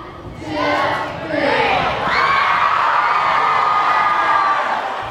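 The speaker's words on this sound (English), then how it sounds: "students scream with delight as school administrators take a pie in the face" A crowd of schoolchildren shrieks and cheers loudly with delight as school administrators take pies in the face, high excited voices blending into a sustained roar.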